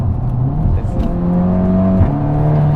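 A tuned VW Scirocco R Stage 2 engine revs steadily with a loud, droning, rising pitch from inside the car, while people talk over the engine.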